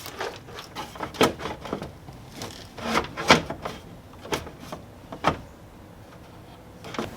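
A part for a Toyota E153 shifter linkage, being fitted into a Mazda BG Ford Escort GT, is trimmed by hand. Close, irregular scraping and cutting bursts are separated by short pauses, with no talk.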